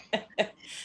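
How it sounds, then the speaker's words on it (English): Two sharp coughs from a woman in quick succession, close and fairly quiet, followed by a soft breathy exhale. "I'll be doing better if I can stop coughing."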